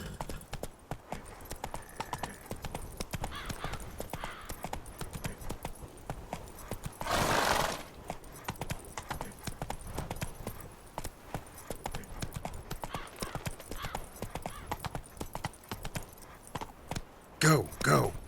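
Horse hooves pound in a steady, rapid galloping rhythm in the video game The Witcher 3, running under game sounds, with a brief rushing burst midway and a horse's whinny near the end.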